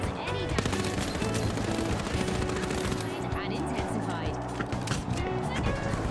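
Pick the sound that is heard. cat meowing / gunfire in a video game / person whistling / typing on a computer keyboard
gunfire in a video game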